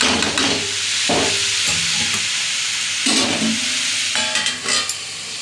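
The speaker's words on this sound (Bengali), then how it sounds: "এবার আস্তে আস্তে ভাজাটা হয়ে আসছে" Shredded cabbage stir-frying in a pan with spices, a continuous hissing sizzle broken by repeated scraping strokes of a spatula at roughly one-second intervals, close and fairly loud.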